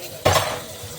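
A sudden clatter of dishes knocking together, one sharp burst that quickly fades into a soft rinsing hiss.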